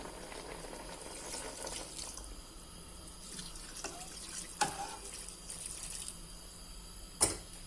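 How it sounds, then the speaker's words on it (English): Water runs and splashes steadily into a pot of ogbono soup, a soft continuous stream with a couple of sharp clinks near the end. "So let's just go ahead and add the water."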